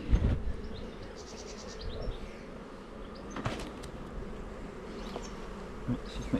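Honey bees buzz steadily around an open hive during an inspection, a constant close hum with brief louder passes and a few knocks and handling sounds.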